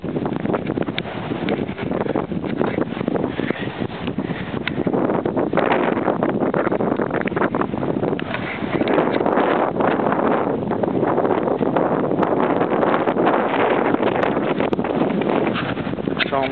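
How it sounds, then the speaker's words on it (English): Strong wind buffets the microphone near a lighthouse built in 1870, a loud continuous roar with gusty surges and rumble that never lets up across the whole stretch. "It's getting pretty windy."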